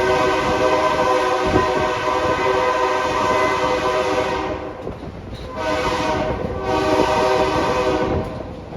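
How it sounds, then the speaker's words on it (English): Steam locomotive 765 pulls an excursion train, its loud, sustained horn blowing in long tones with short breaks, heard up close over the steady rumble and rattle of the moving train. "There's the horn."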